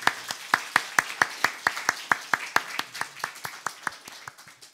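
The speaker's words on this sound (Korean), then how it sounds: "감사와 찬양의 박수 드렸습니다" A church congregation at an early-morning prayer service claps in unison, sharp, evenly spaced claps in a quick steady rhythm that fills the room, with no talking over it.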